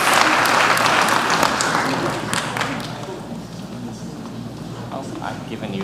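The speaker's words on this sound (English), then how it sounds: "a huge round of applause to these students" An audience applauds students at a high school honors night, steady clapping filling the room, loudest at the start and thinning slightly toward the end, with no words spoken.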